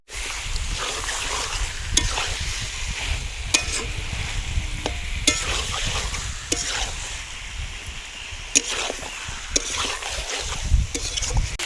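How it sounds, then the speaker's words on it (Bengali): Chicken pieces sear and are stirred with spices in a hot pan, producing a loud, dense, continuous sizzle punctuated by regular scraping clacks of the spatula, close and without speech. "এবার মশলা মাংস দুটোই একসাথে আরও ভালোভাবে কষিয়ে নেব"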